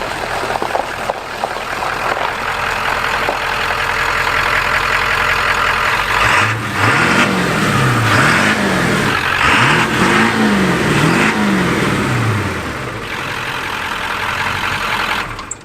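Ford 7.3 Power Stroke diesel farm truck rolling up a driveway in winter, engine steady then revving through several rising and falling pulls, close and loud throughout with no talk.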